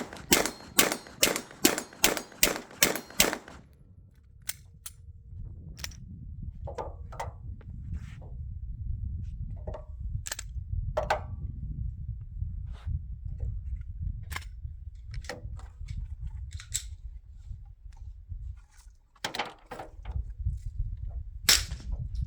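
A Glock pistol fitted with Shield Arms Gen 1 magazines and silicon carbide grip tape fires a fast string of about nine sharp, evenly spaced shots. Quieter scattered clicks and handling noises follow.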